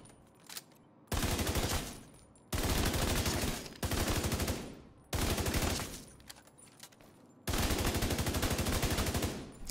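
Eagle Bearer assault rifle fire in The Division 2, four long sustained bursts of rapid automatic shots separated by short pauses, loud and close with no talking.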